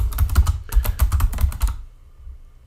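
Fast typing on a computer keyboard while entering text in Illustrator: a dense run of crisp, close key clicks with one brief pause, then the keys stop and quiet follows.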